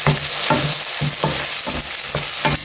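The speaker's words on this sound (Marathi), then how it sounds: "आतां हितून घालता हांव हे चॉप टोमॅटोज आनी ग्रीन चिलीज. ओके, आणि घालून दिता बरो मिक्स." Chopped tomatoes and green chilies being stirred into a hot frying pan, a steady sizzle broken by repeated scraping stirs roughly every half second, close and clear with no talking.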